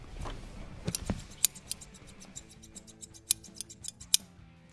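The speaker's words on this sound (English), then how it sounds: "These are my favorite scissors. I love them. I love the sound they make." Favorite pair of scissors snipping, a quick series of sharp metallic clicks and snips at an irregular rhythm, close and fairly quiet, with no talking.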